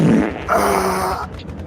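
A single rasping fart, loud and close, sounds alone for about a second and a half, starting with a low buzzy burst and shifting into a higher, drawn-out squeak before trailing off.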